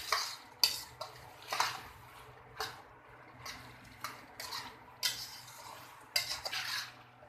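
A metal utensil stirs and scrapes a pan as garlic and ginger paste fries, giving repeated short clinking strokes about once a second over a faint, low sizzle.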